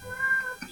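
A pet cat meows indoors in a home kitchen where brisket is being sliced, giving one drawn-out tonal meow close by, followed by a brief second call.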